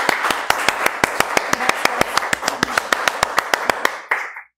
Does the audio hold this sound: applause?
yes